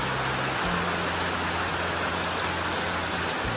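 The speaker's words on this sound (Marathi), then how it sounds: "पावसानं हजेरी लावली आहे" Heavy, steady rain pours down in a Konkan village during a Ganesh immersion, a loud unbroken hiss with a low engine-like hum running underneath.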